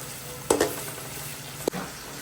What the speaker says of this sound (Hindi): हमने 250 ग्राम प्याज ली है, बिल्कुल बारीक काट कर वो शामिल कर दी। और प्याज को करना है हमने यहाँ पर गोल्डन ब्राउन।